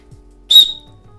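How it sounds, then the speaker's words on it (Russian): A single short, loud, piercing blast from an unusually shaped survival-kit whistle, shrill and bright, lasting about a quarter second against a quiet indoor room. "Все, хватит свистеть дома."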